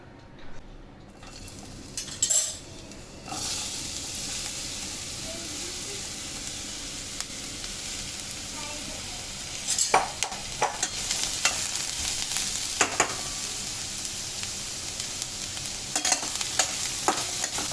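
Sliced ridge gourd fries in oil with a constant close sizzle, while a spatula scrapes and clinks against the pan in bursts of stirring, growing busier toward the end.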